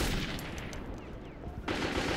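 Rapid gunfire in the video game Metro 2033, a dense continuous burst of shots filling the short moment, loud and close with no talk.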